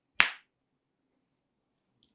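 A single sharp finger snap rings out close and clear, followed by near silence with only a tiny faint click about two seconds later.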